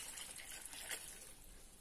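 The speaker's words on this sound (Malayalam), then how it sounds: "വെള്ളം ഒഴിച്ചു" Water is poured into a pan on the stove, a soft, steady trickling gush that is quiet and brief with no talking.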